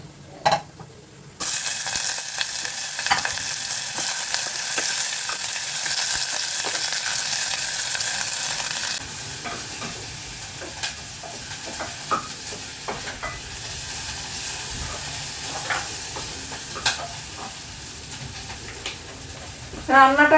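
Minced meat (keema) frying and being stirred in a pressure cooker: a steady, fairly loud sizzle runs for several seconds, then drops to a softer crackle with scattered scrapes and clicks of the spoon against the metal pot.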